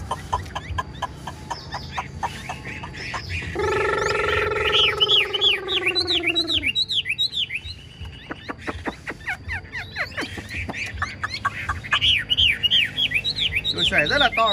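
A Chinese hwamei songbird sings loud, varied whistled phrases up close, interrupted by a harsher drawn-out call, over a faint background murmur.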